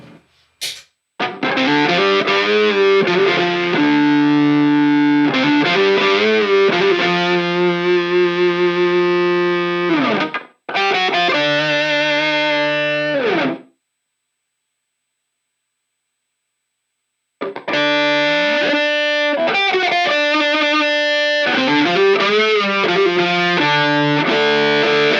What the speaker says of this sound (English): Now with the whammy side added,